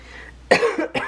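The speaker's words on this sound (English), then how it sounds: "Please excuse my cough" A single hoarse cough bursts out close to the mic after a quiet stretch, followed by two shorter cough-like bursts, from a woman who has been sick while stitching a cross-stitch project.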